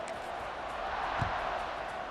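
A stadium crowd in EA Sports College Football 26 roars as a steady, broad wash of cheering that builds slightly midway, with a brief thump near the middle.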